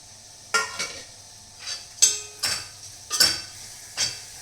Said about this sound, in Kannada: ಇದೇನು ಚಪಾತಿ ಇದೆಯಲ್ಲ ಇದನ್ನು ತುಪ್ಪದಲ್ಲಿ ಸ್ವಲ್ಪ ಫ್ರೈ ಮಾಡ್ಕೊಳ್ತೀನಿ